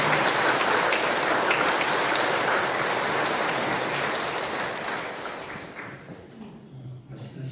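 A church congregation breaks into sustained applause at a Sunday Mass, a dense, loud patter that holds steady for several seconds before thinning and fading out.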